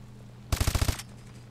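A rapid burst of about seven close, loud shots from a recoil-free gun in a Call of Duty: Advanced Warfare training mission, evenly spaced and crisp, then fading out over a low steady hum.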